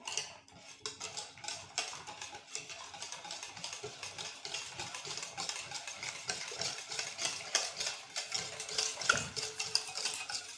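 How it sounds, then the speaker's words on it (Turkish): A spoon stirring chocolate into a milk dessert in a pot, scraping and clinking in a quick, irregular rhythm, close and moderately loud with no speech. "Yarıma yakın bir çikolata ekliyorum. Eriyene kadar karıştıralım."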